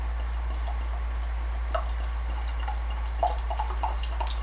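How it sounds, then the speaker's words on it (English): Dark porter beer poured vigorously from a bottle into a glass gives a faint, close trickle and fizzy splashing over a steady low background hum, with no talking. "Pouring quite aggressively actually."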